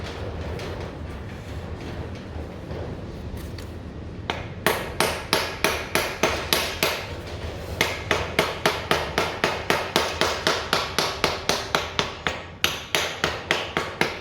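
A hammer taps a differential pinion seal into place on a 1960 Ford Consul, starting sparse and settling into a steady run of sharp, bright metallic knocks, close and clear, with no talking.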